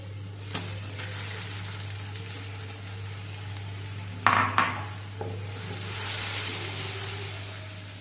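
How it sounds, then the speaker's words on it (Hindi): Tomatoes and onions fry in a pan, a soft continuous sizzle broken by a few metallic clinks and a brief scraping stir from a utensil, over a steady low hum. "टमाटर हमारे अच्छी तरह फ्राई हो गए हैं"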